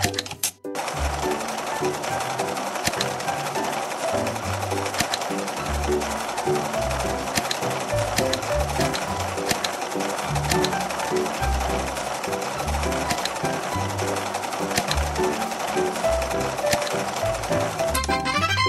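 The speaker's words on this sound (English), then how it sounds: "Sew a jacket." A sewing machine stitching a jacket in a fashion dress-up game, a fast, steady mechanical chatter of the needle running continuously and fairly loud after a brief pause at the start.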